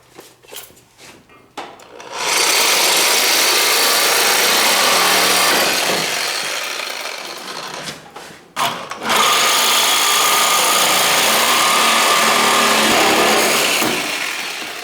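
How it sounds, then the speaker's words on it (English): A Sawzall reciprocating saw cuts through the door hinge pins of a 1973-1987 Chevy truck in two loud, close, sustained bursts with a short pause between them. "I'm going to just take my Sawzall. I'm going to actually cut these"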